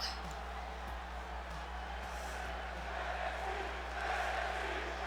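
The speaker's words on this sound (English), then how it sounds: "Even the crowd's really pumped up for this matchup." Arena crowd in the WWE 2K20 wrestling video game, a steady murmuring roar of fans with a low hum underneath, swelling slightly toward the end.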